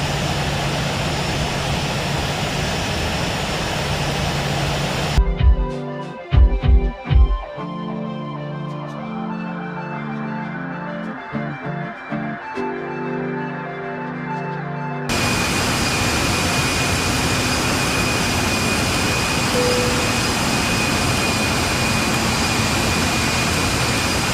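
Jet engines of a Garuda Indonesia Boeing 737-800 hum steadily in the cabin during descent, a loud broadband roar that drops away for about ten seconds with clattering and clunks before the full engine noise returns.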